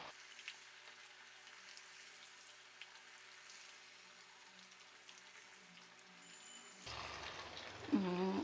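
Chicken 65 leg pieces, bone-in, deep frying in oil make a soft, steady bubbling hiss that holds low and even, then swells louder and busier toward the end, with a brief clatter near the close.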